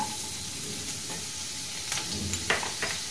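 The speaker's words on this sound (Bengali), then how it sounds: "ঘিটা গরম হয়ে গেলে আমি দেবো কুচানো রসুন" Chopped garlic sizzles steadily in hot ghee, a close continuous frying hiss with a few light stirs and clinks near the end, no voices.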